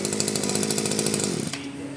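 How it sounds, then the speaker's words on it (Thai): A used Japanese Kyoritsu two-stroke grass trimmer engine runs at a high, buzzing, raspy rev close by, then drops abruptly to a smoother, quieter idle in its final half second. "เครื่องตัดหญ้าร้องไห้ ของญี่ปุ่นอของเคียวริสึ"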